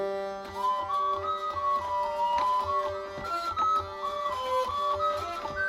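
A hurdy-gurdy's bright, droning open string plays a wandering melody over a steady buzzing drone, with a light rhythmic rattle underneath; close and continuous.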